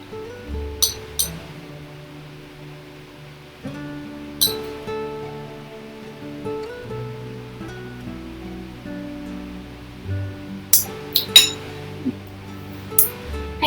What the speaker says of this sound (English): we're going to mix it using a wire whisk